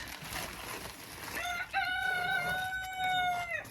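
A rooster lets out one long, loud crow as hens cluck nearby during feeding in a backyard flock, the crow stretching over a couple of seconds after softer clucking.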